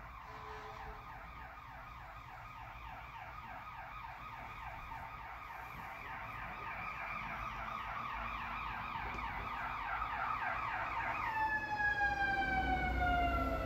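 A fire truck siren wails in a steady, repeating cycle, growing gradually louder as it approaches, with a higher, sharper siren tone joining near the end; no voices are heard.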